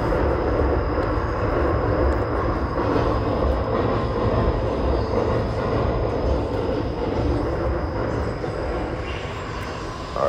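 An Amtrak train passes close by near a station, a loud, steady rumble with a heavy low roar and a rushing hiss that holds for about ten seconds without break.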